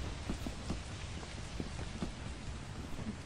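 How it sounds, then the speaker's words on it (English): Steady rain in a video game patters and hisses, with soft scattered drops tapping throughout, fairly faint and unbroken. "Nah, it's just raining."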